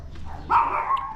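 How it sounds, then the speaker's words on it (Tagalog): A small dog gives a single high, thin bark that trails into a brief whine, heard close with no talking. "Ang liit ng aso. Ang liit din ang boses niya."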